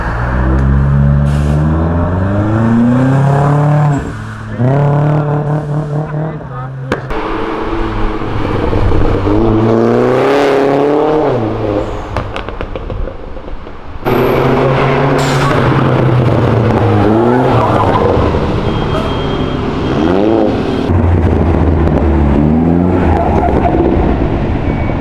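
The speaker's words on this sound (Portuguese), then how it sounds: "Ela travou no freio e aí a GT3 ficou parada" A Porsche GT3 in São Paulo traffic brakes hard. Near, loud engine revs rise and fall in several sweeps, with a harsh tire screech in the middle and no voices.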